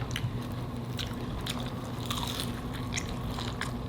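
Homemade fried coconut shrimp being bitten and chewed close to the mic, with soft crunchy crackles repeating over a steady low background hum and no talking.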